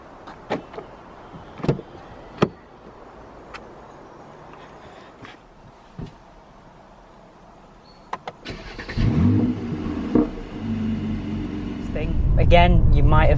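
Someone climbs into an AMG Mercedes car with door thuds and interior clicks, then the engine fires up and settles into a loud, steady idle with a swell of revving near the end.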